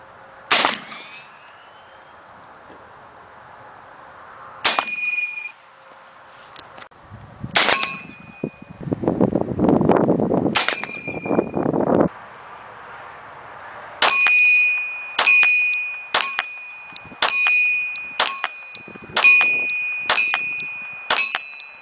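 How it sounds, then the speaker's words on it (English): Shots from an M1 Garand rifle strike steel targets, each bang followed by a bright ringing metallic ping. The shots start irregular and spaced out, with a rough noisy stretch between them, then a quicker string of about eight shots. "So we're gonna fire a few rounds at this at some steel."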